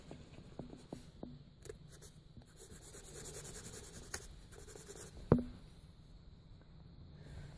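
Pen or pencil scribbling a loose sketch in an art journal, soft steady scratching strokes close up with a few light taps, quiet throughout.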